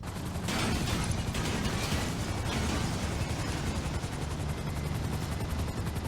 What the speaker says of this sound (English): I end up crashing my helicopter